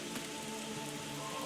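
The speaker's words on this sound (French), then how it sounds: "Regardez la pluie." Steady rain falls in the medieval village-building game Manor Lords, a soft, even hiss of drops with a faint tonal hum beneath, unbroken throughout.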